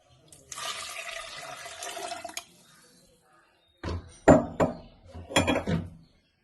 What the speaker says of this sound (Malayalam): നമുക്കിതിലേക്ക് വെള്ളം ഒഴിച്ചു കൊടുക്കാം.